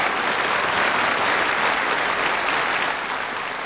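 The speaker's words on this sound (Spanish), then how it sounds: "Un aplauso para ellos." An audience at a 1987 concert applauds the band members in a dense, continuous wash of clapping that stays strong throughout and fades only slightly at the end.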